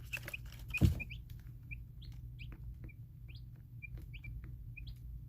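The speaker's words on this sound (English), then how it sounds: "We can enjoy their gentle peeping" Baby chicks peep softly and steadily, a string of short high chirps spaced through a close, quiet indoor space with a low hum beneath and one thump near the start.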